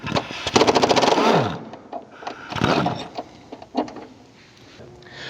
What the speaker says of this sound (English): I kind of have a feel for what the impact wrench sounds like when it gets to that point